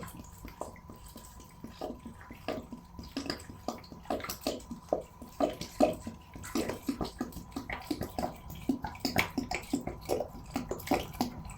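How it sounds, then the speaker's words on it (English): Water splashing and trickling in an irregular, bubbly rhythm as it is poured into a pot, close by and moderately loud. "I pour water and then heat it to make a decoction."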